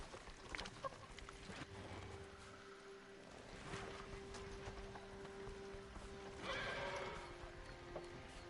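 Horses whinny and their hooves clop in a radio drama scene, a faint neigh rising near the end over quiet background noise, with a low steady hum running through.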